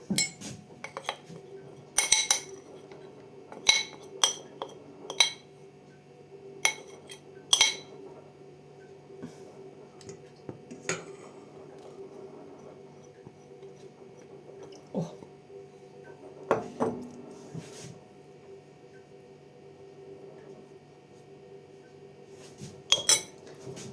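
A utensil clinks against a dish while stirring citrus-dressed corn, sporadic light metallic chinks and taps scattered over a quiet kitchen background.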